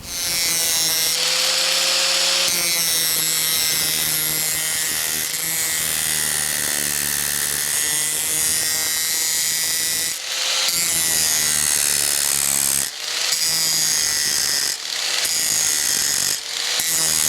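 A power tool cutting an access hole in a Ford Maverick strut tower, loud and close with a continuous grinding whine that pauses and restarts several times.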